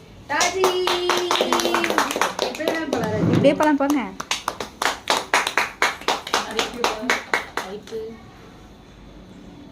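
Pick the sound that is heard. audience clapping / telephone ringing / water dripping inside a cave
audience clapping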